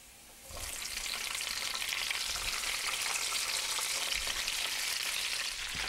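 Red peppers hit hot garlic oil with a pan of crushed red pepper, bursting into a loud, dense, continuous sizzle that holds steady close by.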